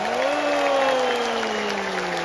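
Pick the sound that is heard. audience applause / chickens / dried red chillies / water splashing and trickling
audience applause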